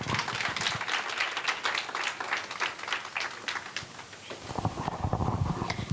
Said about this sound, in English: That was not a very deserving round of applause for the content that was given here.